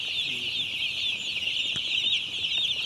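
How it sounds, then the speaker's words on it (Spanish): A dense, continuous chorus of high peeps from about 10,000 six-day-old chicks, like a large flock chirping all at once, steady and unbroken. "10 mil pollitos hay ahí."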